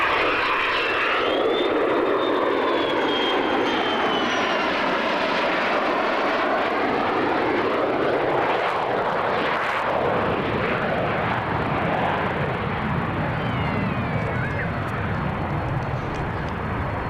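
A Buccaneer jet roars loudly through an air display pass, its engine whine rising and falling in pitch as it approaches, sweeps overhead and recedes, sustained and powerful for the whole stretch.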